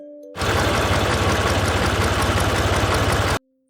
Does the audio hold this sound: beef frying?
no